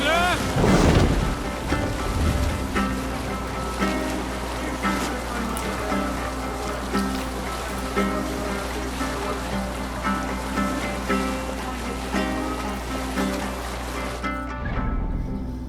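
A Viking longship sails across open ocean in Assassin's Creed Valhalla, with rolling waves, wind and creaking hull washing together in a dense, continuous roar. It fades out abruptly at the end.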